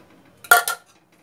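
A utensil scrapes and clinks against a pan while peanut and jaggery chikki mixture is stirred, two quick close metallic knocks in an otherwise quiet kitchen.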